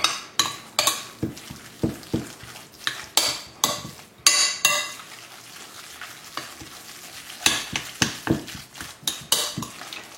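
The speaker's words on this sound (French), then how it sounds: "On mélange bien toute la préparation." Beef tartare for an Asian-style recipe is mixed in a bowl, giving repeated wet, squelching strokes with sharp clinks of a utensil against the dish. The strokes come in bursts with a short pause in the middle, close and fairly loud.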